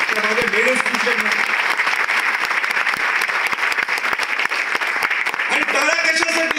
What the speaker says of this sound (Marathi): आणि टाळ्या कशासाठी?